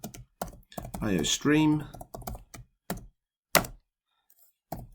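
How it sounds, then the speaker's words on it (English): Code is typed on a computer keyboard: quick clusters of key clicks and a few sharper isolated taps, close and moderately loud, around a short stretch of a person speaking. "we can just very quickly run with this and type our first program"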